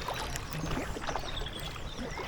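Kayak paddle blades dip and pull through the water at a brisk pace, giving a continuous close wash of splashing and trickling with no pauses and no voices.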